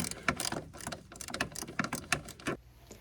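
A wrench or ratchet loosens a 13 mm body ground bolt during car battery ground cable replacement, giving a quick run of close, sharp metallic clicks over about three seconds.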